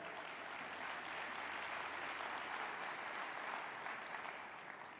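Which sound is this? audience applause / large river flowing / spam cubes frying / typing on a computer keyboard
audience applause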